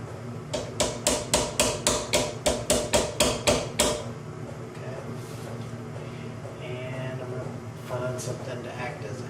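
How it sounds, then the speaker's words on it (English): About fifteen quick, evenly spaced metallic taps from the peen of a hammer during fit-up work on a Kibler Woodsrunner rifle kit, sharp and close, then quieter handling sounds under someone talking. "Take the peen of my hammer."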